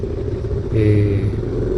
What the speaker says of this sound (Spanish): Y aquí vengo en mi motocicleta, mi Suzuki DR650